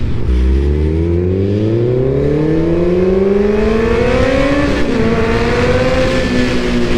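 A 2014 Kawasaki ZX-14R motorcycle accelerates hard and loud up close, its engine note climbing steadily before one gear change drops the pitch and it pulls up again.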